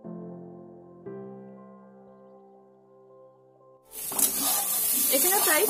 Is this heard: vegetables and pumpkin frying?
yes